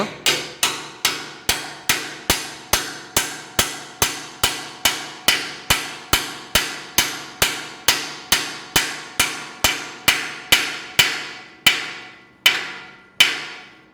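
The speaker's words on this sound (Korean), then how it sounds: "여기서 또 다시 망치질을 소리 다시 또 들어보세요" A steady series of about thirty sharp metallic hammer blows rings out as a bearing is driven into the crank axle of a spinning exercise bike, evenly paced and close, the last few strikes spaced wider apart.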